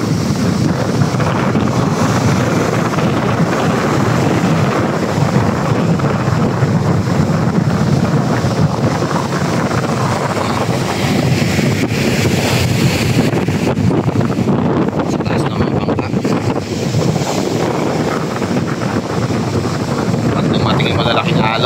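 Wind and breaking sea waves at a river mouth where fishing boats are pulled up, a loud continuous roar with heavy wind buffeting on the microphone and a voice speaking through it.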